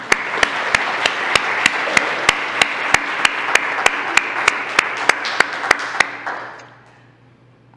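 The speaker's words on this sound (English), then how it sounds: "we give you our applause from here." Congregation clapping in a church during a live-streamed service, a steady wash of applause from the room with sharp regular clicks running through it, cutting off and fading near the end.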